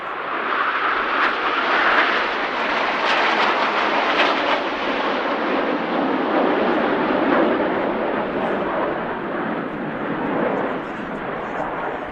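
Jets of an Italian aerobatic team roar overhead at an airshow while performing a fan roll trailing smoke, a loud sustained broadband engine rush swelling and fading, with a commentator talking over it.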